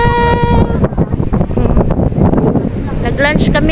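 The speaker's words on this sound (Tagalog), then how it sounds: "lakas ng hangin talaga, oh" Strong wind buffeting the microphone at a Boracay beach, a loud continuous roar with gusty swells, while someone talks over it and faint tonal sounds drift in.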